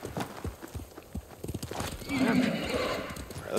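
A horse in the video game Ghost of Tsushima whinnies loudly amid clip-clopping hooves, with rhythmic footfalls leading up to a drawn-out neigh.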